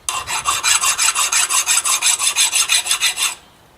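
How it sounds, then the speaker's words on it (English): A file rasps in quick, evenly spaced back-and-forth strokes across a lawn tractor axle keyway, about sixteen close, loud strokes in a steady rhythm before stopping abruptly. "Just kind of file the keyway flat."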